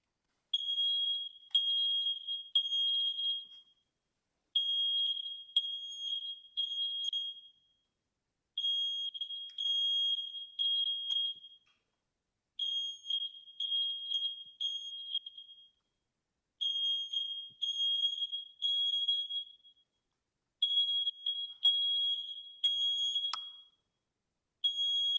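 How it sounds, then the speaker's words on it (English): A kitchen smoke alarm sounds during a test, giving loud, shrill, piercing beeps in six repeated bursts of about three seconds each, separated by short pauses, with nothing else heard. "I've got a smoke alarm here, so just so that we can do a little test, I'm gonna go ahead and sound it."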